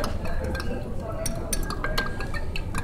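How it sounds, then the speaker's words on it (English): A spoon stirring baking soda solution in a container gives repeated light clinks and scraping swirls at close range, steady and moderately loud. "So I'm going to stir up that baking soda."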